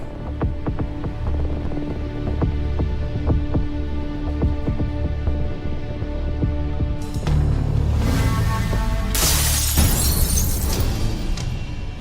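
Glass of a house window pane shattering in a loud burst of crashing, tinkling debris, preceded by a steady throbbing dramatic music bed and followed by a second bright crash of breaking glass.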